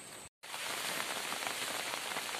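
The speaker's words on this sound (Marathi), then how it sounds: "अच्छा थोडे थोडे ढग आहेत तिथून पाऊस पडतोय" Rain falling on a Konkan farm under a mostly clear blue sky with a few scattered clouds, a dense steady patter of drops on surfaces throughout after a very brief gap near the start, with no talk.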